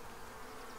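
A continuous, even hum of many honey bees swarming near an observation hive, brief and uninterrupted.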